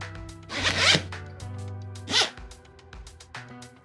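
Zipper on a small accessory zipper bag from a Blink500 Pro B2 wireless microphone kit being pulled open, two distinct close rasping pulls with quieter handling rustles between them, no talking.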